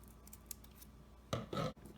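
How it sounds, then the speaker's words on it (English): Scissors snip through folded paper to cut out half of a heart shape, two quick close crisp cuts near the end after a quiet stretch. "So let's cut out a heart shape first, half of a heart shape."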